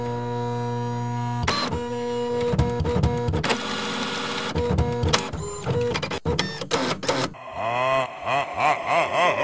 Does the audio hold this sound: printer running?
yes